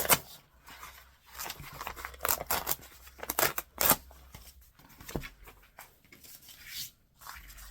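Pages are torn out of a vintage book one after another in quick uneven rips and rustles, close and crisp, with short pauses between pulls.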